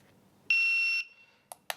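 A CED7000 IPSC shot timer sounds its start signal: a single clear electronic beep lasting about half a second. It is followed by two sharp, brief clicks.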